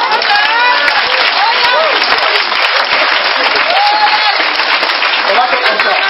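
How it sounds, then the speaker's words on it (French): Church congregation applauding and cheering for Jesus, steady loud clapping from many hands with whoops and cries rising above it, continuous throughout. "Est-ce qu'on peut acclamer Jésus?"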